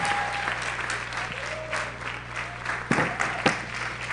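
A conference audience claps for a speaker, a dense steady round of applause with a few sharper claps standing out near the end.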